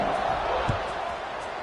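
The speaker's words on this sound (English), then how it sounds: "this crowd is buzzing after that last score" A football stadium crowd at a UNLV versus Arkansas State game keeps up a dense, steady murmur just after a score, with a single dull thump partway through and possible commentary voices underneath.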